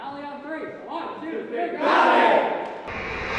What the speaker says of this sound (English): Now take us out with a cheer.